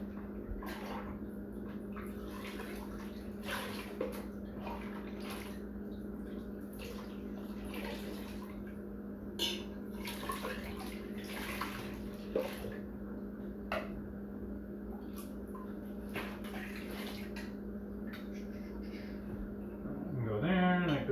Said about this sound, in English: Alright, quickly rinse this off.